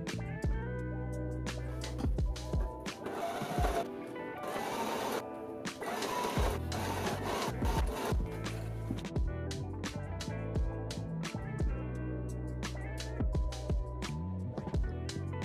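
A sewing machine runs top stitching along the edges of a waxed canvas tool roll, a fast steady mechanical whir with brief stops and starts, close and loud with no talking.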